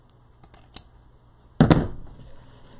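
Scissors snip through stiff designer ribbon while a bow is being made, a few light clicks followed by one louder, close crunching cut that trails off.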